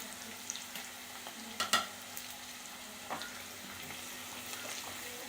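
Green chilies, curry leaves and onion sautéing in a pan for Kerala-style fish curry, a quiet, steady sizzle broken by a few sharp spoon knocks and scrapes.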